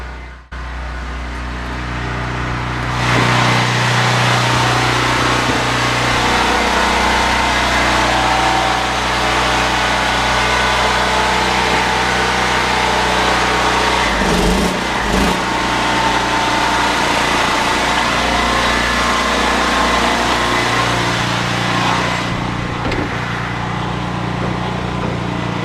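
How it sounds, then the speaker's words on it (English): An air compressor starts up beside a running generator on a home building site, a steady loud engine drone with a broadband surge and rattling vibration building in partway through, alone with no talk. "So we'll see if I can get the compressor started now."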